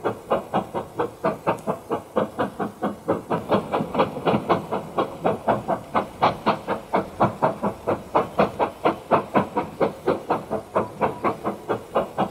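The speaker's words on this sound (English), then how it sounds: "Let's step back into the railroad room and watch a few trains running." A model railroad steam locomotive runs steadily with rhythmic chuffing hiss bursts at an even, fairly quick pace, close and moderately loud, no voices over it.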